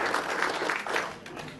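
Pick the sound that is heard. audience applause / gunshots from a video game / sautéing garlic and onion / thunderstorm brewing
audience applause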